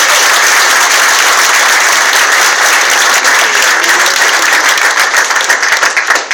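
Convention audience at the Black Book Edition convention in 2014 applauding a game announcement: loud, dense, continuous clapping from a large crowd that holds steady for about six seconds.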